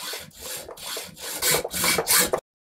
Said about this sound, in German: nehme dann meine zweite Hand zur Hilfe, um mit der Säge schön über das ganze Sägeblatt drüber zu sägen